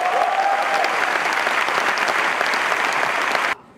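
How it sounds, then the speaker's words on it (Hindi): Loud, dense applause from a large audience at a motivational seminar, sustained and even before stopping abruptly, with a brief voice near the start. "इसलिए तालियां बजा सकते हैं जोरदार?"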